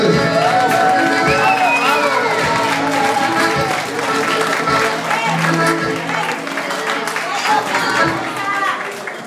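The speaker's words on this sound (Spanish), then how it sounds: "aplauso fuerte." Loud applause and cheering from a wedding crowd, with clapping mixed into dense chatter and music, continuous throughout.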